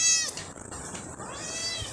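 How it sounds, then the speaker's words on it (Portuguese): A small kitten meowing indoors, a short, fairly close, plaintive call with a slight second cry, set against faint room noise. "Até o gatinho fica miando"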